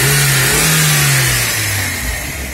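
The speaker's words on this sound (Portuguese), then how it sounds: "Tá o carro aí redondinho" A car engine revs hard after its radiator and coolant reservoir have been cleaned, a loud sustained roar that slowly eases in pitch as the revs drop, with no talk over it.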